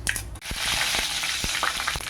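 Curry leaves dropped into hot oil already holding popped mustard seeds and urad dal, giving a loud, continuous crackling sizzle with sharp pops and the scrape of stirring.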